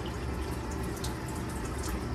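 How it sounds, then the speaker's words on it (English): Dirty soaking water from cloth face masks poured out into a sink, a steady broadband splashing and trickling that runs evenly throughout at close range. "I'm gonna dump out that dirty water."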